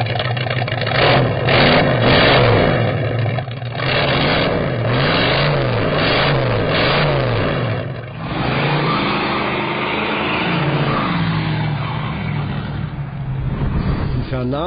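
A 4.7-litre V8 in a Ford Mustang rumbles and revs repeatedly, deep and loud, with the throttle rising and falling in waves throughout.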